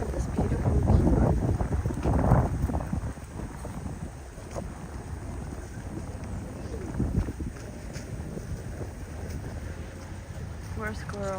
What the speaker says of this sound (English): The wind is so cold.